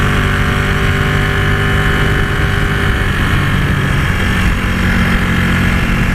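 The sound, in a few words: Ducati 899 Panigale twin engine running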